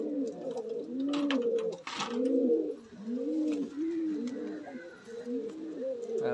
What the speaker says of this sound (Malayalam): അത് നമ്മൾ ട്രെയിൻ ചെയ്യാനുള്ള പ്രാവ് തന്നെയാണ്